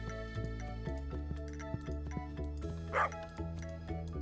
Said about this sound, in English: I really do wish you would stop barking.